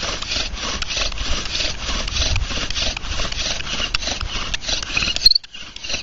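Bow drill spinning a wooden spindle into a notched hearth board to make fire: a steady back-and-forth sawing, rubbing grind repeating throughout, close and loud, stopping abruptly near the end.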